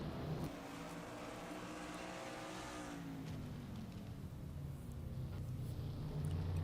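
NASCAR Cup cars at Daytona in NASCAR Racing 2003, running back to the caution: a continuous drone of race car engines with a rising and falling pitch, fairly faint and steady, with no voice over it.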